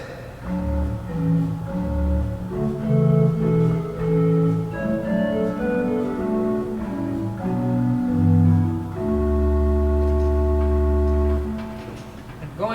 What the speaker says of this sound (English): This is a 16-foot Borden on the Brick division.